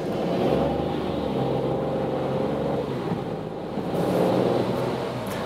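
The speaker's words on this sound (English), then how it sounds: "I turn the engine on, go to D mode again, sometimes you think, yeah, there's just some rattling in the sensing, especially when the engine has just started." Steady low rumble of a Citroen C3 PureTech 110 engine idling just after a start, heard close from inside the cabin, with a faint rattle and a slight swell in loudness partway through.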